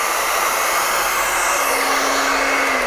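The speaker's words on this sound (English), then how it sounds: "I'm gonna turn the blow dryer on again, and I'm gonna start moving this paint around" A blow dryer runs steadily and loudly throughout, pushing acrylic paint across a fluid-art Dutch pour canvas, with a constant broadband whoosh and no talking.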